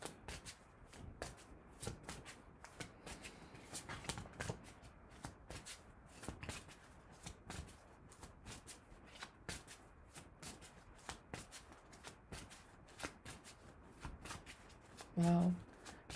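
A tarot card deck is shuffled in repeated quick riffling bursts, with soft card slaps at close range throughout; a voice talks quietly at times.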